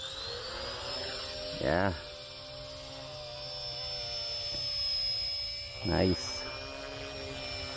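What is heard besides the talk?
RC helicopter flying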